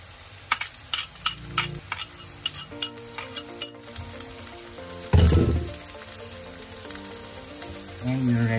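Onion and green chilies hit a hot pan and fry, a burst of sizzling that follows several light clinks of utensils against the cookware.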